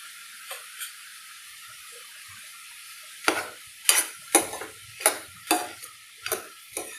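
Onions sizzling in a pan for egg curry, a steady soft hiss joined midway by a series of regular scraping stirs, about one each half second, close and moderately loud.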